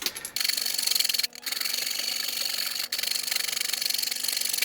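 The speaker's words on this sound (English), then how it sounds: "I'm using the Shinto saw rasp to take away the excess, just with brute force." A Shinto saw rasp shaping the excess wood off a guitar neck blank, a continuous rough rasping scrape in fast back-and-forth strokes, close and steady with two brief pauses.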